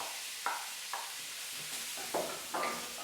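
Meat being stirred with buckwheat flour in a pan for beef bourguignon: a few separate scraping stirs, moderately close, over a steady low sizzle, with no talking.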